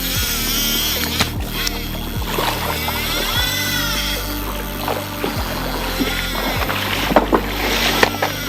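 A boat motoring across water, its engine holding a steady low drone with layered hum and splashing hull noise throughout, a few sharper knocks near the end.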